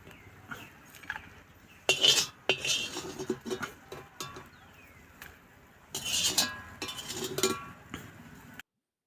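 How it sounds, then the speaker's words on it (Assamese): Fried dry fish being lifted from a pan onto a plate in a home kitchen, with scattered metallic clinks and scrapes of utensil against cookware, in irregular bursts with pauses between. "গোটেইখিনি মাছ প্ৰথমতে কাঢ়ি লওঁ।"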